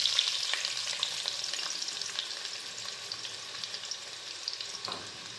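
Chopped onion fries in a small amount of oil, producing a close, even sizzle with light crackles and faint stirring throughout, no voices.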